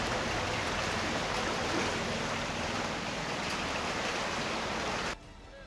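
Heavy monsoon rain pours down in a flooded low-lying city area, a dense, loud, steady hiss that holds without a break and then drops off sharply just before the end.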